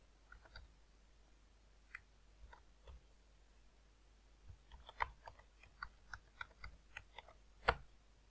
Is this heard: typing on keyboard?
yes